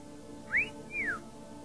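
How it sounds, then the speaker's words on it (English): A parrot gives a wolf whistle: two clear, loud whistled notes, the first sweeping up and the second gliding down, with nothing else heard. "it would give out with a wolf whistle"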